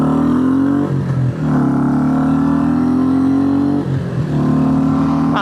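A Royal Enfield Classic 350 single-cylinder engine thrums loud and close while riding on an evening road, a steady low drone with brief dips as the rider shifts gear.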